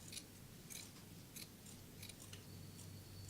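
Scissors snip through paper to shape a Halloween craft flower. About seven crisp, close cuts come in an uneven rhythm over a quiet background.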